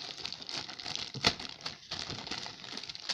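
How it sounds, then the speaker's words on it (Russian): A thick plastic bag from a Tamiya 35128 model kit box crinkles close by in quick, irregular crackling bursts, with one sharper rustle partway through and no talking. "Вот такой пакет."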